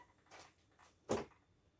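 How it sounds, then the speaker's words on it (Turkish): The plastic door of a La Ferrari ride-on toy car is opened, giving a soft shuffle followed by a single sharp clack, close and alone in a quiet room. "Kapılarımızı açalım."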